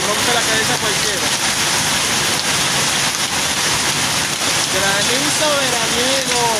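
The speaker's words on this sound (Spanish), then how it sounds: "Granizo veraniego. Es como rompe la hoja de los árboles." Heavy summer hail hammers down in Ciudad Real, Spain, a continuous loud clatter and hiss of falling ice, with faint voices surfacing briefly under the din near the end.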